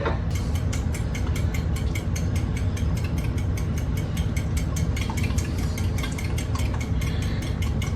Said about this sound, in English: Mix it up a nice little bit.